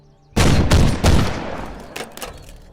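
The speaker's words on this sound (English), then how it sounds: "3 shots ring out." Three gunshots ring out in a Warhammer 40k audio drama: two loud, close blasts about a second apart, then a softer third shot, each trailing off with echoing reverberation.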